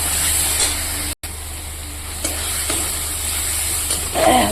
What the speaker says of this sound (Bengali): আর এদিকে মশলাটা কষিয়ে নিচ্ছি